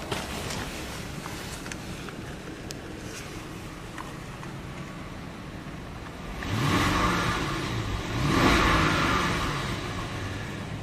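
A 2013 Bentley Mulsanne Mulliner starts up, its engine rising to a smooth, muted swell of exhaust rumble with a second surge after a few seconds, heard over outdoor background noise.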